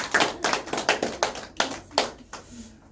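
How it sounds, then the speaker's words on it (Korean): A church congregation claps in encouragement, a small group producing about eight distinct, fairly even bursts of clapping in a loose rhythm before fading, heard alone in a reverberant hall. "격려의 박수 한번 하겠습니다."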